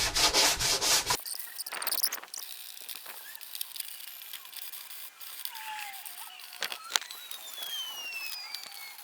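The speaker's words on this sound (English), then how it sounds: "it's rubbing down with a board like this on filler" Rhythmic rubbing and sanding strokes of a sanding board scrape across body filler on a fibreglass arch, a loud burst at the start, then softer repeated passes with a few sharp knocks.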